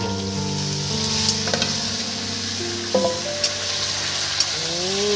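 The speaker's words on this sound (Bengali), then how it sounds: "দেখুন বন্ধুরা কেটে রাখা এই চিচিঙে দিয়ে দিচ্ছি বন্ধুরা এর মধ্যে" Chopped snake gourd (chichinga) and potato sizzle steadily in hot oil in a pan, a close, continuous fry with a few soft clinks of stirring; no one speaks.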